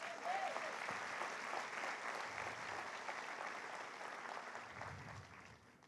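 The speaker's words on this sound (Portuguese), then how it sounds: "Aplauda o Senhor Jesus" A church congregation applauding, with steady, dense clapping that sounds fairly distant and faint and stays even for several seconds before it tapers slightly.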